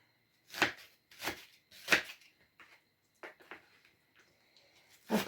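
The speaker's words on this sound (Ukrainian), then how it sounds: "Ріжу цибулинку. Цибуля сочна." A juicy onion is chopped with a knife, with a few separate crisp cuts against a board spaced out over the clip, quiet and close, with softer taps between them.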